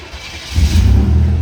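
A 1987 Buick Grand National's engine rumbles low and steady, swelling louder partway through as the throttle opens, close and without talk.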